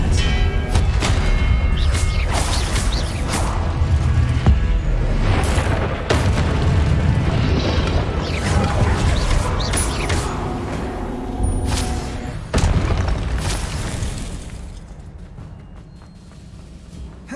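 A disarming spell cast in the Hogwarts Legacy video game bursts out as a loud, booming magical blast with whooshing impacts, sustained and dense over a rumbling musical backdrop before tapering off near the end.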